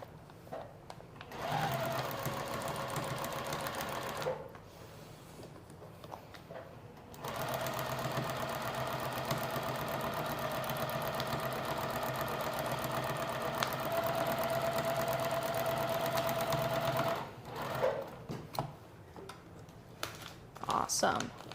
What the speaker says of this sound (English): Take it to our sewing machine